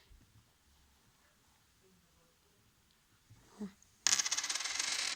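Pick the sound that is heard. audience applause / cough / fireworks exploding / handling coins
handling coins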